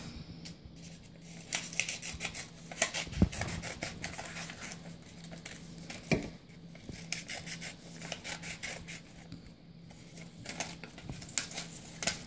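Scissors cutting strips of paper for a paper weaving craft, a series of soft snipping and rubbing sounds with irregular crisp clicks, close and fairly quiet, no talk.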